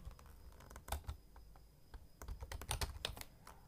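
Quick, irregular clicks of typing on a computer keyboard while entering a name into a form, faint and close, with bursts of keystrokes and brief pauses.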